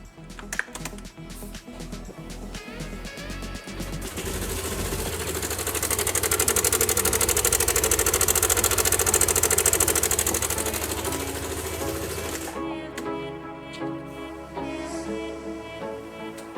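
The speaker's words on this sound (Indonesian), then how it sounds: "mesinnya udah begini, kletek" A Yamaha Nmax scooter engine idles with a faulty cam chain tensioner, giving a steady rapid mechanical clattering close by that swells louder midway and then settles back, with no talking over it.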